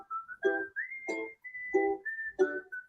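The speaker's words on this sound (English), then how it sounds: "Whistling." An Alexa smart speaker plays a whistled tune, clear melodic notes repeating in a regular rhythm, each phrase ending in a short rich note, alone and close.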